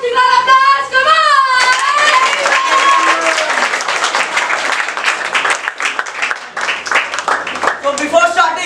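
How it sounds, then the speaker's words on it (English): Audience applause at a talent hunt show, clapping rising under a singing or chanting voice that opens the stretch, then a dense burst of many hands mixed with voices and cheers that continues throughout. "So guys, big round of applause, come on!"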